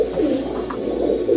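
A female pigeon gives soft low cooing close by while being picked up by hand, a continuous throaty murmur with slight swells and no talk.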